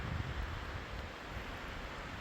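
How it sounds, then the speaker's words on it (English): Steady wind rushing outdoors high up among treetops, a broad constant roar with low buffeting gusts, no voices. "it is windy up here"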